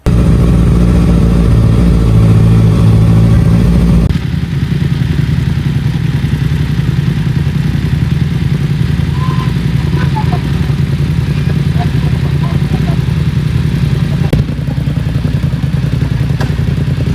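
A BMW F900R motorcycle rides along, producing a steady, loud engine drone with wind rush that carries through the whole stretch. A brief clatter comes near the start.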